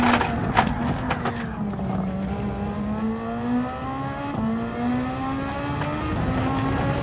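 Race car engine in the Gran Turismo 7 racing game revving under full throttle, a steady droning tone climbing and dipping in pitch through the whole stretch, loud and continuous with no talk.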